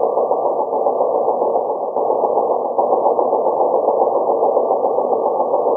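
A sewing machine runs steadily while stitching shirring on an adult dress, a loud continuous motor hum with a faint knock or two and no talking.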